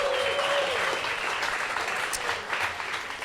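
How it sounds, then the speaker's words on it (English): Pub quiz players applauding at the end of a round, a loud burst of clapping from a small crowd that tapers slightly, with a brief voice underneath at the start. "Let's applaud ourselves for finishing round 3."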